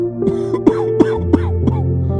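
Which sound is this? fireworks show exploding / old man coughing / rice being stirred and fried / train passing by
old man coughing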